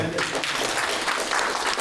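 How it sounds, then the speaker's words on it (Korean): A room full of people at an academic conference claps steadily, a dense burst of applause heard close and fairly loud for a couple of seconds. "박수 한번 주시죠."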